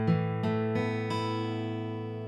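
A sus2 chord on a guitar is picked one string at a time, four clear notes in a steady rhythm that ring together and fade slowly, close and with no voice.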